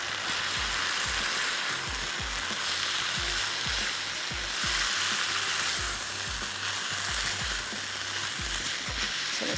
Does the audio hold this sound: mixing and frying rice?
yes